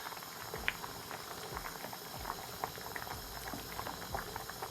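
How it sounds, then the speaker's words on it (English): A pot of Jamaican gungo peas boils steadily, with a dense, low bubbling and gurgling plus scattered small pops, close and moderately quiet, no voices. "Pot a bubble up."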